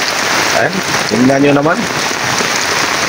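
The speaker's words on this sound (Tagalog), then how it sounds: "Napakalakas na ulan dito ngayon" Heavy rain pouring outdoors, a steady broadband hiss that continues throughout, while someone briefly speaks over it partway through.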